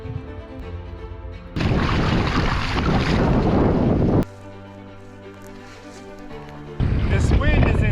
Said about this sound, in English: This wind is insane right now.